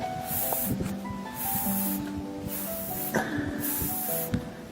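Air hisses out of a punctured tyre in repeated pulsing bursts, loud and close, with faint knocking and tonal background sounds underneath.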